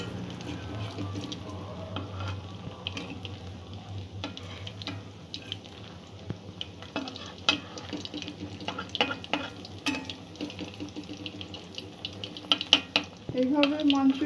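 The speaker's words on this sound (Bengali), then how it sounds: "এইভাবে মাঞ্চুরিয়ান বলগুলো দু পিস ভেজে নেব লাইট ব্রাউন করে" Prawn manchurian balls fry in hot oil with a soft, steady sizzle punctuated by scattered crackles and light utensil clicks, fairly quiet and close, with a louder clatter near the end.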